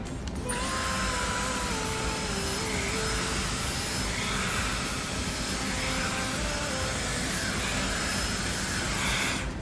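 A Dyson Airwrap hair styler with its detangling barrel runs as a steady, even airy whoosh with a faint high whine, constant throughout and heard alone.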